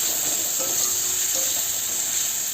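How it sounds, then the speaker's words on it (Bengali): Chopped onions fry in hot oil with black cumin seeds for a fish curry, giving a steady, close sizzling hiss that holds level throughout, with no talking. "আর দেবো পেঁয়াজ কুচি এবার পেঁয়াজটা একটু ভেজে নেবো"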